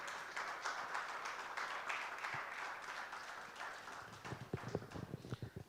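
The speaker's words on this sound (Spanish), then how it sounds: "Dale un aplauso al Señor" A church congregation applauds during a Spanish-language service, steady dense clapping that turns into sharper, more distinct claps toward the end, fairly faint and without talk.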